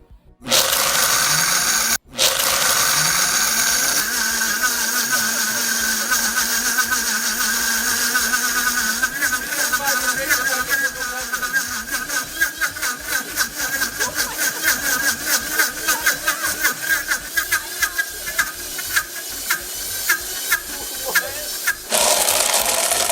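Ninja and Vitamix blenders run at full power with a loud, steady motor whine and a rising churning roar as contents blend, close and continuous, with faint laughter in the background.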